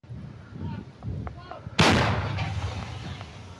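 A loud artillery blast goes off partway through, booming and then rolling out into a long fading rumble, with quieter distant thuds and murmuring voices before it.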